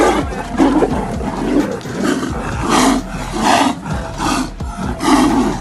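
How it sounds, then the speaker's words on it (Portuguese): A tiger and another wild animal fighting, with loud, continuous overlapping roars and snarls in rough surges, close and raw, with no speech. "O barulho que os 2 animais emitem já é assustador"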